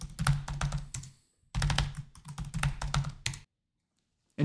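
Fingers tap out a password on a computer keyboard during an Arch Linux encryption setup, in two quick bursts of close keystrokes split by a short pause, then silence at the end.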